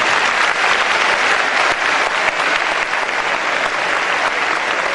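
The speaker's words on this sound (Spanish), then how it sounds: "Y a los panelistas, un aplauso estruendoso" Loud, dense applause from an audience for the panelists at a conference session, a continuous roar of clapping held steady from start to finish.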